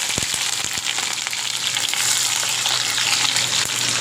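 Crackling, hissing sizzle of a ginger piece and garlic cloves frying in a hot pan with onion, steady and close, with sharp pops near the start.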